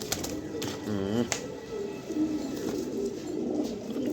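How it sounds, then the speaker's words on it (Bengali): A pair of nesting pigeons coo in soft, repeated rolling calls close by, over a steady background hum with occasional faint voices. "দেখার মতো এক জোড়া কবুতর"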